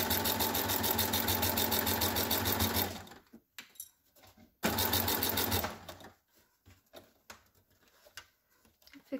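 Sewing machine stitching a rolled hem on a curtain, two loud close continuous runs of about three seconds each, separated and followed by quiet pauses with small handling clicks and taps.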